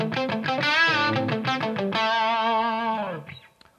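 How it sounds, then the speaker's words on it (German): Electric guitar played through an amp set to a grunge distortion tone: thick, sustained distorted chords and notes ringing loud and steady, then fading out at the end, with no talking. "Ich habe beim Amp einen Grunge-Sound ausgewählt."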